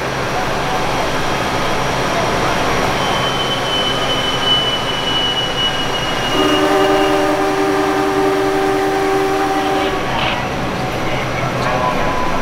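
A passenger train of eight carriages pulls out on a free homecoming run from Jakarta, a steady rumble of rolling cars with brief metallic wheel squeals and tones partway through. Voices murmur faintly beneath it.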